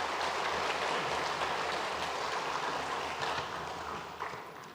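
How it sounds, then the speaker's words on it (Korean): Congregation at a Sunday church service giving a loud, sustained round of applause to welcome a bereaved family, a thick continuous clapping that slowly fades toward the end. "잠깐 자리에서 일어나실 때 큰 박수로 우리 위로하며 환영하겠습니다."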